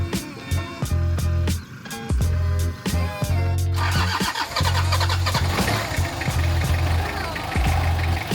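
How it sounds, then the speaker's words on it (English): A diesel car engine cranks repeatedly in sharp, regular bursts, then catches at about four seconds and settles into a loud, rough, steady idle. Up close, with no voices, before an off-road outing. "That's the longest it's ever taken to start."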